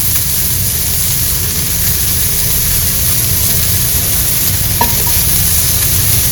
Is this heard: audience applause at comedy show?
no